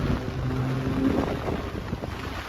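Strong wind buffets the microphone during a street walk on a rainy day, giving a constant, heavy, low rumbling roar with gusty flutter that fills the whole stretch and has no voices over it.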